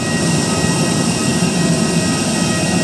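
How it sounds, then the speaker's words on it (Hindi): Jet engine of a parked passenger airplane at an airport apron, a loud, steady broadband roar with a constant whine, close and continuous throughout, with no talk. "अरे भाई बहुत तेज आवाज आ रही है इसकी तो इंजन की"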